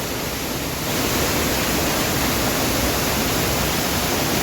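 A waterfall on a trekking route around Clydach, Wales, roars as a steady, dense rush of broadband noise. It swells louder after the first second and then holds constant and close throughout.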